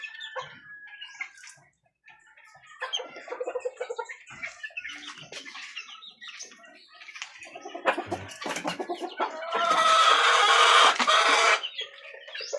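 Gray hatch chickens cluck in a backyard, a busy run of close, overlapping clucks and squawks with a louder, denser burst of flock noise near the end.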